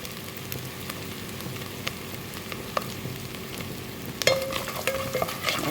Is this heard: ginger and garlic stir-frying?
yes